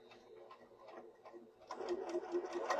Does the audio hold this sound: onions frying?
no